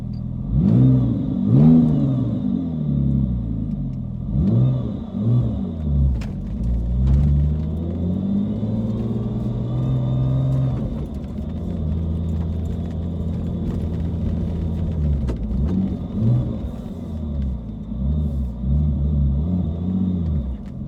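A Porsche Boxster's 4.3L R43 engine with its exhaust opened up, loud deep revs rising and falling in repeated bursts over a rumbling idle, close and unbroken by speech.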